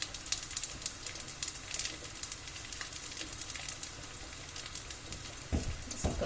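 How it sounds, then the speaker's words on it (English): Pork dumplings sizzle as they are laid into a hot pan, giving a steady, fairly quiet crackling hiss with no talking, and a sharper burst of sizzle near the end. "when you put your dumplings down, there should be a little bit of a sizzle"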